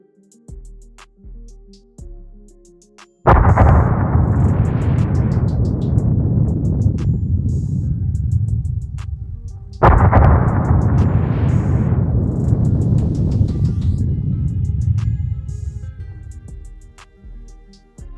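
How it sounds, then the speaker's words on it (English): Volcanic eruption of Santa Maria volcano: two massive, loud booms, each erupting suddenly and rolling into a long, dense rumble that slowly fades, preceded by quiet, low tones. "Santa Maria volcano's southern side exploded in an eruption that left a mile-wide crater"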